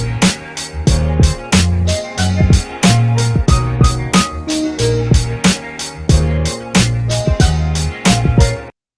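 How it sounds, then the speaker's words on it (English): Pre-made loops playing together in BandLab: a looping electronic beat with punchy drums and a repeating bassline, loud and steady, several layers, ending abruptly. "I have added 3 loops from BandLab already"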